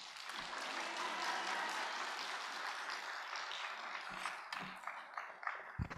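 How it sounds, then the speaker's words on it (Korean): A church congregation applauds as a visiting seminary professor comes forward, a steady wash of clapping across the room that thins out toward the end. "우리 교수님 나오실 때 할렐루야 하면서 큰 박수로 환영하겠습니다."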